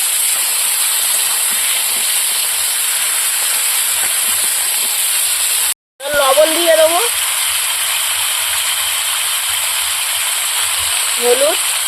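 Seeded banana and potato pieces hiss in hot oil with fried onion, a steady, loud frying hiss that cuts out for a moment partway through, then returns with short bits of speech.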